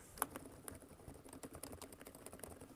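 An Epomaker RT100 mechanical keyboard is typed on in a quick, steady patter of soft, close key clicks with no talking.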